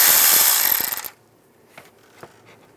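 An 8mm socket wrench works a nut loose on a Chevrolet Equinox, a loud burst of mechanical whirring for about a second, then silence broken by two faint clicks.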